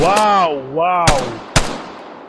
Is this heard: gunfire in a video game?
yes